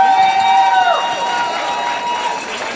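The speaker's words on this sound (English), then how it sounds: "Let's get a huge round of applause for all of our teams that made it to the finals match" At a VEX V5 robotics competition finals, an arena crowd cheers and applauds for the finalist teams in a continuous roar, with faint whistle-like tones over the noise.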